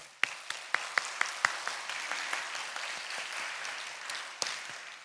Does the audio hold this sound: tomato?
no